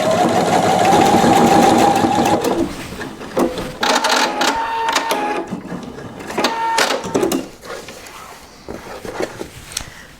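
A Pfaff 720 sewing machine stitches buttonholes, running in short mechanical bursts with pauses between them, fairly close and moderately loud, with no one talking.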